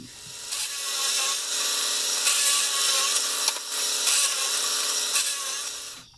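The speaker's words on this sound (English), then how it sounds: "now that I've got my pilot holes in there, even without it being in a vise, I should be able to drill it fairly straight" A drill bores into wood through pilot holes in a lantern vise workpiece without a vise holding it, giving a continuous, moderately loud grinding whir that holds steady for several seconds before cutting off.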